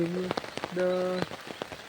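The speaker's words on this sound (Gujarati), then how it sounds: "એટલે વરસાદ તો ફૂલ વરસાદ ચાલુ થઈ ગયો" Heavy rain falls at night, a steady hiss of drops that runs through the whole short stretch, with loud tonal, voice-like sounds rising over it at intervals.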